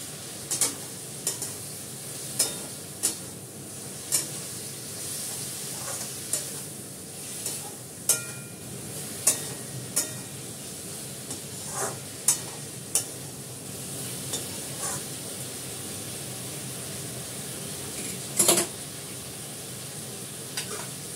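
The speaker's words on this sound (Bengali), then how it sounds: "বেগুনটা ভেজে নেবো" Eggplant frying in a pan gives a continuous crackling sizzle, broken by sharp spatula taps against the pan at roughly regular intervals and a louder scrape near the end, with no talk.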